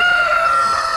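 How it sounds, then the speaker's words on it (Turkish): A rooster crows loudly and close by in a poultry yard, one sustained, strained call that fills the whole moment. "Bu arada horozumuz da ötüyor."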